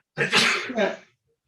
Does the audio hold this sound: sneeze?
yes